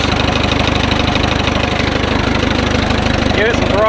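A 1938 J.I. Case CC tractor engine runs loud and close with a steady rhythmic chugging pulse throughout, a voice briefly speaking near the end.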